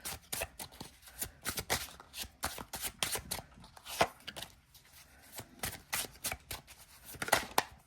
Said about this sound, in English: I'm just trying to shuffle you. Let me shuffle you.